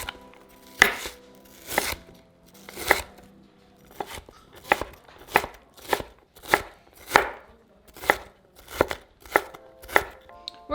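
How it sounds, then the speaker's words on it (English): An onion is chopped with a knife on a cutting board, about a dozen crisp, close knocks, first in a few slow strokes and then in quicker, evenly spaced chops, with no talking. "we're going to chop the other half of the onion"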